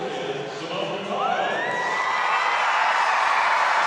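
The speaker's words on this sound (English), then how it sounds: "And now we'll cheer for Simone Biles." Arena crowd at a U.S. gymnastics championship cheering and whooping for gymnast Simone Biles, a loud swelling roar with high shouts rising over it.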